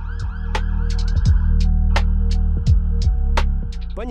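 A police car siren wails in the distance in downtown Toronto at night over a loud, low engine-like hum, with sharp clicks and pops scattered throughout.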